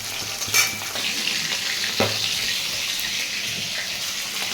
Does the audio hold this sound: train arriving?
no